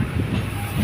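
Interior of a moving train carriage on a run out of Kollam, a steady loud low rumble and rattle of the running train filling the short moment with no voices.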